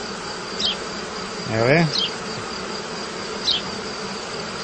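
Honeybees hum around a hive as a beekeeper moves the old queen into a new colony box, a steady close buzz with a few sharper passes of individual bees and a brief spoken voice.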